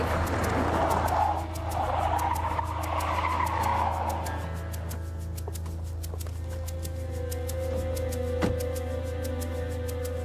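Car tyres squealing and skidding as the car swings around, a harsh broad screech in the first seconds, then a steadier engine hum with faint clicking.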